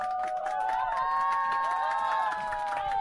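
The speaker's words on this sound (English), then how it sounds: "I don't know if you can hear the cheering in the back" A crowd cheers and hollers at a quarterfinal match, sustained overlapping shouts at a steady, fairly loud level throughout, heard from nearby without a clear break.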